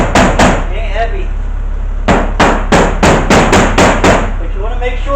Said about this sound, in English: Probably a 16 ounce, 18 ounce hammer.